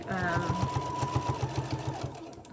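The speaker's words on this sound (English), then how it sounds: "And I'm just going to sew." A sewing machine stitches a fabric mask with a rapid, even mechanical rhythm, close and steady, while someone talks at the start.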